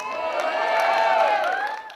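A live audience cheers and whoops in a sustained, loud roar of many voices with some scattered clapping, fading slightly toward the end.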